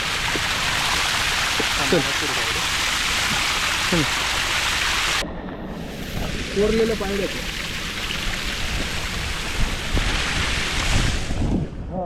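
Rushing water from a waterfall and flowing stream on the Savlya Ghat trek in the Sahyadri hills: a loud, steady broadband roar fills the whole stretch while several people talk over it.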